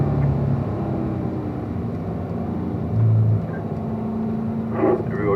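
A race car driving on a track, the engine droning steadily from inside the cockpit with a brief surge and shifts between gears, continuous and fairly loud.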